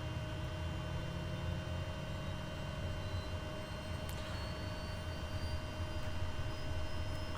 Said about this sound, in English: Cool. Engine start is looking good.